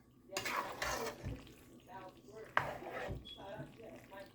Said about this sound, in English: Just flip it. You don't want to smash your noodles. All you gotta do is stir it up a little bit.